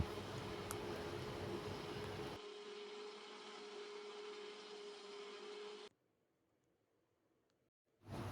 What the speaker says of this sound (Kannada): so mixer ಪಾಡ್ದು grind Malpe